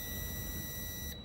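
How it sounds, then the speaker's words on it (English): Steady continuity beep from a multimeter probing ground points while checking the ABS pump and valve relay circuits on a Nissan, a constant tone held for over a second before cutting off. "I should have the continuity sound"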